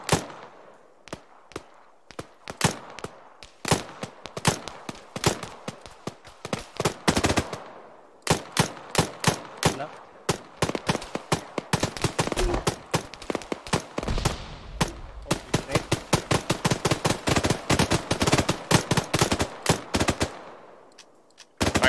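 Machine gun fire in the video game Operation Mosul, sharp close bursts and single cracks spread over about twenty seconds, with sparse shots early that build into long dense volleys later.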